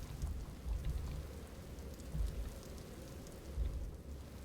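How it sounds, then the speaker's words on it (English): Rain and thunder in the video game Empty Shell: steady heavy rainfall with low rumbling thunder rolls swelling repeatedly underneath, fairly quiet overall. "Rain effects."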